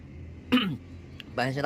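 A throat clearing and a short cough from a person with a cold in chilly weather, close by, with a pause between them and brief talk just after.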